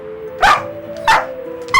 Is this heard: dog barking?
yes